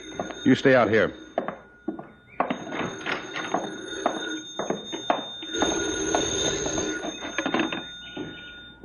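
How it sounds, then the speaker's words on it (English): An old-fashioned telephone bell rings in a 1950s radio detective drama, a thin ringing tone running beneath a man's close dialogue and a few thumps. "Oh, that's the phone."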